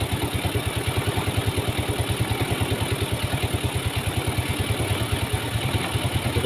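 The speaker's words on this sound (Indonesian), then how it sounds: "ini ya kita cari posisinya di mana motornya pas kita putar posisi gasnya naik tinggi ya" A Yamaha Mio scooter engine runs close by with a steady, rapid low-pitched pulsing as the throttle is turned up, the idle-like chug holding loud and even throughout with no talk.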